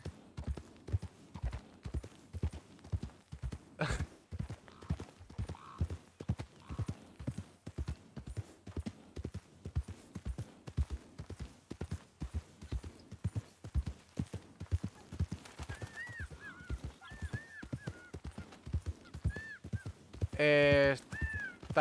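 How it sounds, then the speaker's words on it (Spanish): A horse's hooves clip-clop steadily as it is trained, a long run of close, regular footfalls, with a whinny near the end and speech over parts of it. "Está entrenando al caballo."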